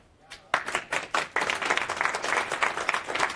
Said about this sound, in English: So one round of applause for Dario.